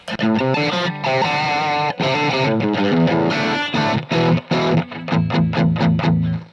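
Distorted electric guitar through an overly bright Friedman amplifier, with a harsh top end, plays chords and choppy stabs, loud and close, ending in a series of rhythmic staccato hits.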